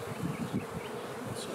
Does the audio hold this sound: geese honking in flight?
no